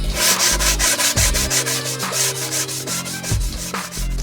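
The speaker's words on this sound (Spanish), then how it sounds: "Con una lija fina vamos a lijar toda la madera" Fine sandpaper rubs across a wooden box being made into a jewelry organizer, loud close rasping strokes in a steady back-and-forth rhythm with brief pauses between passes.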